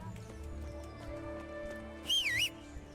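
A horse in Kingdom Come: Deliverance gives a single short, high neigh near the end, ringing clearly above quiet game ambience and distant hoof movement.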